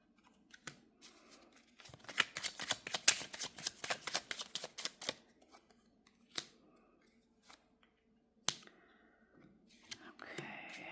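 Tarot cards shuffled close by in a rapid riffling run of crisp flicks, then a few scattered single snaps and slides, with faint whispery sounds between.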